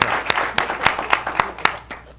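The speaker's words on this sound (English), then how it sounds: "would you please join me once again for giving these three individuals a round of thanks and applause?" Audience applause at a business breakfast, a steady crowd patter with sharp individual claps standing out, fairly close and sustained without talk.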